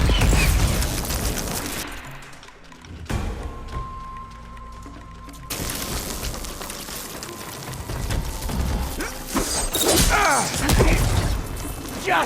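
Rapid gunfire and crashing impacts in the Horizon Forbidden West action game, loud bursts with a short lull in the middle before heavy fire resumes amid clanking mechanical sounds.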